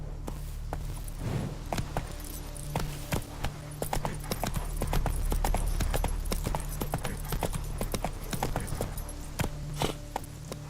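Horse hooves in The Witcher 3 clatter in a quick, continuous clip-clop rhythm across the whole stretch, fairly close and steady with a low rumble beneath.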